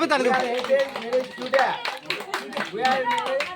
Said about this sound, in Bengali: তালি দাও সবে তালি দাও